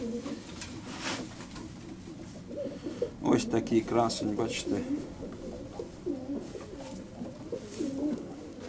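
Soft, low cooing of a domestic pigeon repeats nearby while someone speaks over it in a quiet setting.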